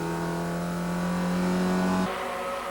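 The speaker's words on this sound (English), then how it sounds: "that's not a misfire, it's just a technique for getting a front-wheel driven car to turn into a corner." Front-wheel-drive Group N production race car at Kyalami in 1999, its engine holding a loud steady drone while cornering, then abruptly cutting and changing pitch near the end, with no voices.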